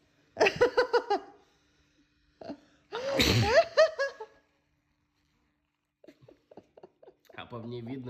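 A man sneezes after putting kalanchoe drops in his nose, a few bursts of sneezing and coughing-like exhalations close to the microphone, mixed with spoken remarks and gasps in quiet surroundings.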